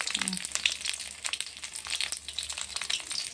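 Frying for a home fish curry gives a steady close sizzle with scattered utensil clinks and stirring scrapes throughout, and a brief voice murmur sits in the background.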